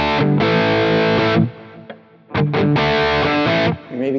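A distorted PRS SE electric guitar, high gain, switching between coil-tapped and full humbucker pickup tones, playing loud sustained chords in two bursts separated by a brief near-silent gap with a few picked notes.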